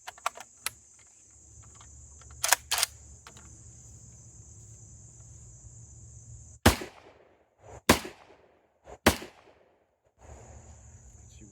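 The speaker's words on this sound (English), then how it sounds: "So we're going to fire just 3 rounds here and see how it cycles." Three sharp, loud gunshots from a G43 rifle on a test fire, spaced about a second apart, each with a short echoing decay. Earlier fainter clicks and a steady insect chirr sit in the outdoor background.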